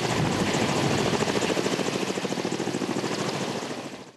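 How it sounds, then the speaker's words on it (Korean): A Korea Forest Service firefighting helicopter roars past up close, its rotor chopping in a loud steady beat over a broad turbine rush that slowly fades at the end. "열흘 동안 산불 현장을 누볐던 산림청 진화 헬기입니다"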